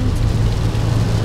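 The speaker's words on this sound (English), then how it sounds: "it's been raining the whole time that we've been on the road" Steady rain heard from inside a car travelling on the road, a continuous wash of drumming on the body with deep road rumble underneath, fairly loud and without voices.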